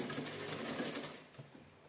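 A sewing machine stitches an old towel for a kitchen hand-wipe, its fast steady whir running close and clear for over a second before it slows and stops, with no talking.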